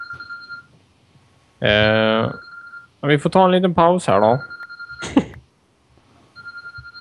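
A telephone rings with a steady electronic tone in short repeated bursts, moderately loud, while people talk over it in Swedish.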